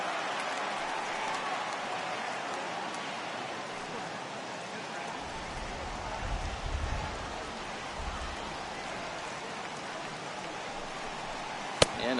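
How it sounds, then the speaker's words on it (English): Steady rain hisses continuously in a baseball video game, a soft, even wash of noise with faint low rumbles midway and a brief sharp click near the end, no voices heard. "that rain is really coming down right now"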